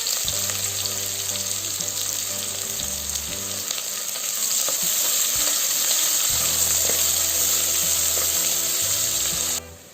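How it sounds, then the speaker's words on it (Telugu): Onions frying in a pan for egg biryani, a steady close sizzle with faint stirring scrapes that runs continuously and stops abruptly near the end. "ఆనియన్స్ వేసి రంగు మారేంత వరకు వేయించుకోవాలి"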